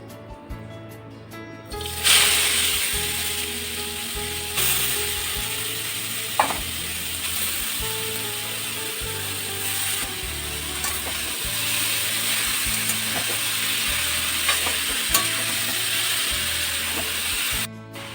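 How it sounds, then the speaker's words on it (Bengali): Grated carrot is stirred and fried in ghee for gajar halwa in a home kitchen, giving a steady close sizzle with rhythmic scraping and clinks from the stirring spoon against the pan. "এখন আমি এই গাজরটা এই ঘির মধ্যে দিয়ে 2-3 মিনিটের জন্য একটু নেড়ে নেব।"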